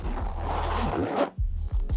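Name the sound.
zipper of a Bellroy Toiletry Kit Plus bag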